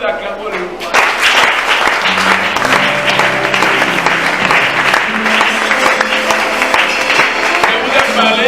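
A church congregation applauds and cheers together during a worship service, with loud, sustained clapping and crowd noise that continues steadily, with voices mixed in throughout.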